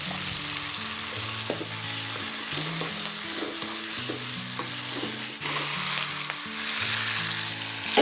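Lemongrass, bay leaves and lime leaves fry in a pan for stuffed squid, making a loud, continuous sizzle with scattered crackles and stirring scrapes, with music in the background and no talking.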